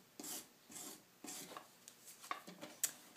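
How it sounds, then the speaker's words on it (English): A metal rib scrapes clay off a freshly cut pottery plate while trimming it, making rough, rasping strokes that repeat in an uneven rhythm. The sound is close and fairly quiet. "I'm going to take my metal rib and kind of scrape off this part that's kind of risen up from where I cut it off of the bat."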